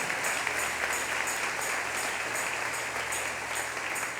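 A church congregation applauds steadily for several seconds, a dense, even wash of clapping with no pauses.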